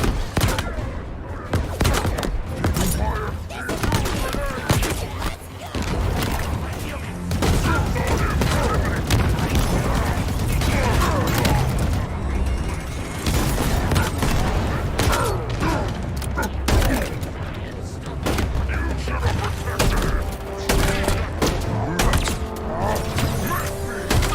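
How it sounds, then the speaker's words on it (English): Gunfire and explosive booms from an Xbox game trailer, including up-close shotgun blasts, pound loudly and continuously among mechanical clanks and a dense soundtrack, with people talking over it. "Looks like an up-close shotgun"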